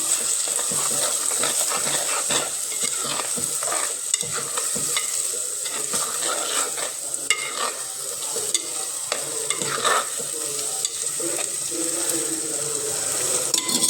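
Village-style chepalakura, a fish and tomato curry, sizzles steadily in a pan while a spoon scrapes and stirs it continuously, with small clicks and knocks against the metal.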